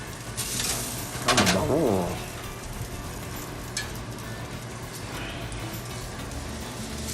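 Lechon belly pork fries in a hot pan with a steady sizzle, and a few metallic clanks and scrapes come early as the pieces are stirred. Someone speaks briefly over it.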